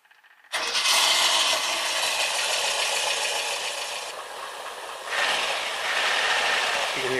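A GT Power sound module in an RC car plays a simulated engine as a steady electronic hiss-like drone. It starts abruptly, holds a fairly even level, and swells again partway through.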